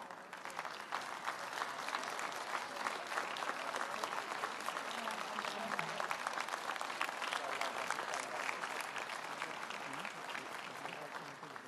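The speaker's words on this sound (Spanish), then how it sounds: "Los aplausos, por favor" A festival crowd at a Paraguayan Guarania music event applauds in a long, continuous wash of clapping, fairly distant and even from start to finish, with faint voices beneath.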